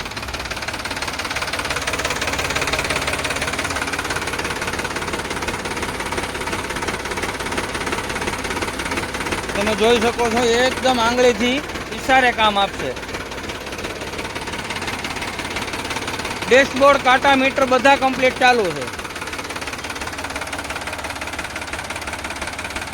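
A Sonalika DI 745 RX tractor idles with a steady, close diesel rumble and knock running throughout, while someone talks over it for most of the stretch.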